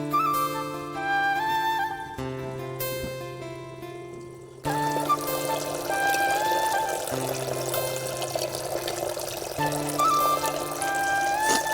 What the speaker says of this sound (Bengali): তো বন্ধুদের জল ভরছি, দেখতে পাচ্ছ খুব স্লো জলটা পড়ে একটা।